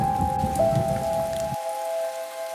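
Rain falls at night by a roadside, a steady close patter under a sustained tonal drone, then the rain noise cuts off abruptly partway through while the drone continues.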